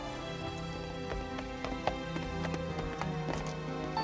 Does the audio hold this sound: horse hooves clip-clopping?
yes